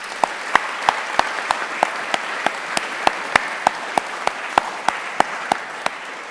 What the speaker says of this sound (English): maybe we could have a round of applause for them